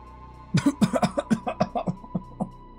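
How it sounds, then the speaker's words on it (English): A burst of rapid, repeated coughing from inhaled smoke, about a dozen harsh hacks in quick succession, close to the listener. "causing more coughs and sputters from me"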